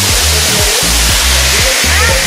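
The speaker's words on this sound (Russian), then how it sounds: "Красивый водопад, прикольный, ущелье очень классное." A waterfall in a gorge near Batumi roars as a loud, steady rush of water. Someone talks close by over the constant noise.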